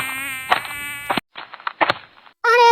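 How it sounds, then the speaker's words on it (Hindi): Mosquitoes whining right beside an ear in a cartoon jungle, a loud, high, tonal buzz that cuts out in short gaps and returns, with no one speaking. "ये मच्छर कब से मेरे कान पर पी पी पी करे जा रहे हैं"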